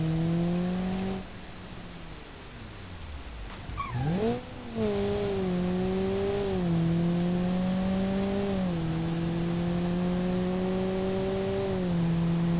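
Engine of a standard four-door saloon in the BeamNG.drive driving game, revving and climbing in pitch through several gear changes, with a brief dip and a squeal of tires partway through. The steady whine stays loud and close throughout.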